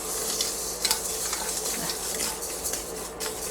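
Rice grains roast in a dry pan with a steady hiss, broken by scattered light pops and crackles, close and moderately loud.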